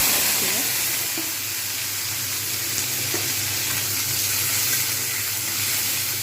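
Shrimp frying in a hot pan give a steady, close sizzle with a bright crackle running through the whole stretch. Steam hisses faintly underneath, and there is no talk.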